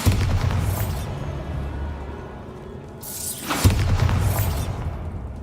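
Two booming explosions from the Bombarda spell in Hogwarts Legacy, each a sharp burst with a shattering crackle, spaced a few seconds apart over a steady low rumble of game ambience.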